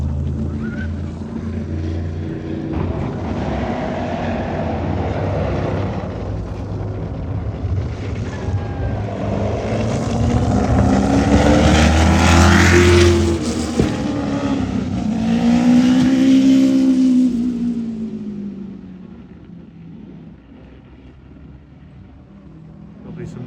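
IndyCar race cars doing hot laps at Road America's turn 5 pass by with rising and falling engine whines, two loud swells in the middle, over wind rumble and talk.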